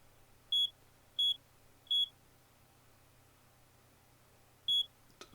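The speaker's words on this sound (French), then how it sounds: "Ah bah c'est le réveil." An alarm clock sounds three evenly spaced short electronic beeps, then a pause and a fourth beep, each clear and high-pitched over a quiet low hum.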